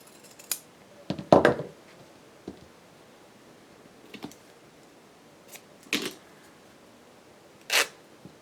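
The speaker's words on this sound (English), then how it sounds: "I'm going to use pinking shears since it's pinking sheared all around the outside" Pinking shears snip through paper in a few short, separate bursts, one louder crunchy cut followed by quieter ones spaced a couple of seconds apart, close up with no talking.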